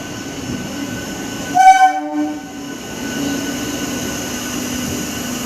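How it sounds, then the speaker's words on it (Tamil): A train horn blares briefly, then the low rumble of a MEMU train rolling into a station in Tiruchirappalli continues steadily, fairly close and loud. "நம்ம ட்ரெயின் வந்துருச்சுங்க"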